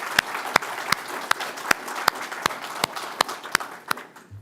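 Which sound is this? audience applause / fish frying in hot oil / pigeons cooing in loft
audience applause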